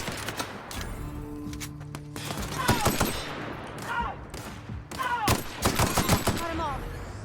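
Assault rifle fire in The Outer Worlds, sharp close bursts and single shots cracking in irregular clusters over a steady game background, with a voice talking intermittently.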